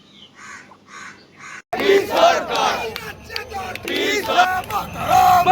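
BJP protesters chant slogans in unison at a street demonstration in Maheshtala, a loud rhythmic crowd roar that starts abruptly after a few faint distant bursts and continues in waves.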